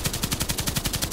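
Automatic gunfire in the Contract Wars online shooter: a rapid, even burst of about a dozen shots in just over a second, loud and close, with no talking.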